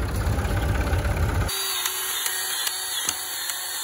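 Farm tractor engine running, a heavy low rumble that cuts abruptly to a quieter whining mechanical tone with a few faint clicks, close by with no talk.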